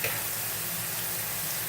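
A flat iron steak sizzles in a hot pan, a steady, close hiss of frying that holds evenly throughout the brief moment with no talking.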